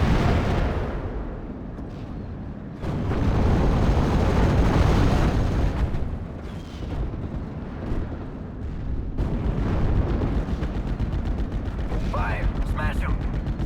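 Gunfire and artillery fire from the WWII strategy game Steel Division: Normandy 44 on D-Day in hedgerow country, a dense continuous roar of shots and blasts under brief radio voice chatter.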